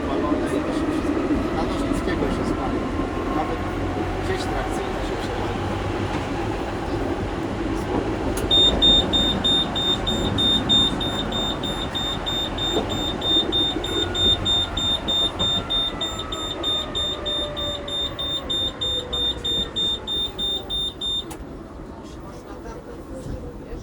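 A warning alarm inside a Konstal 13N tram beeps as a steady pulsing tone for about thirteen seconds over the rumble and rattle of the tram in motion, with people talking throughout.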